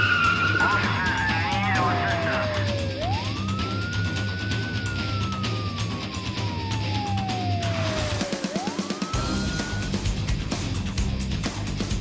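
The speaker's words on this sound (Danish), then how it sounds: "de scorede 180 grader, perfekt. Og der var masser af dækrøg." Stunt cars whipped into a 180-degree spin with tires skidding and smoking, a long continuous engine roar with rising and falling screeches, loud and close, with voices faintly underneath.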